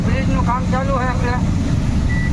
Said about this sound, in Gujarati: ઉપરથી બધા વાહન વયા જાય મોટા મોટા ખટારાની।